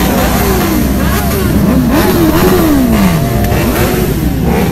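Motorcycles, including what appear to be Royal Enfield bikes, revving at a bikers rally, engine pitch rising and falling in loud close swells over a noisy crowd background with voices mixed in.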